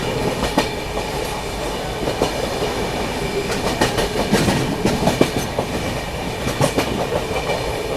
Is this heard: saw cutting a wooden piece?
no